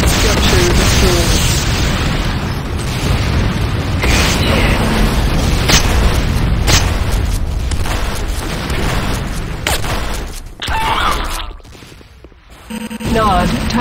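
Nod power plant exploding in the Renegade video game: a loud, dense rumbling blast with booms and crackling debris, fading into a brief lull near the end, with game voice announcements mixed in.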